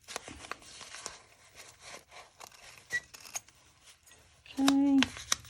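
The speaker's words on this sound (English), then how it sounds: "I'm going to cut out the" Scissors snip through fabric while plush pattern pieces are cut out, a series of short crisp cuts and rustles under a voice talking, with a brief louder sustained tone near the end.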